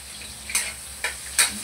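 Garlic sizzles and fries in a hot pan while being stirred for squid adobo, a steady close hiss broken by a few sharp scraping bursts, with no talking.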